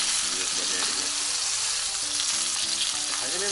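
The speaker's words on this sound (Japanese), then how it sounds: "ちょっと皮目がパリッとしないと美味しくならないんで、中火で今はこう熱が出てきます" A chicken thigh fries skin-side down in a pan over medium heat, giving a close, continuous sizzle and crackle that stays even throughout with no talking.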